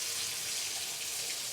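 Domestic hot water runs steadily from the right-hand valve of a Quantum 4-in-1 tap, a continuous close hiss of flowing water with no talk over it.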